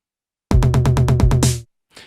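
Tom drum struck in rapid, even sixteenth notes, about eight resonant hits in a row, loud and close, followed by a brief softer tap.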